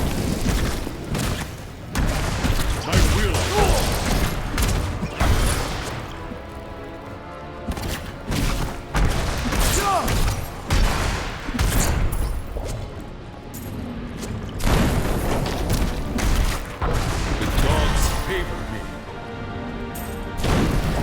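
Rapid booms, crashes and whooshing bursts as a molten enemy explodes with area fire damage in a Diablo 3 fight alongside a Monk, loud and dense blasts repeating throughout.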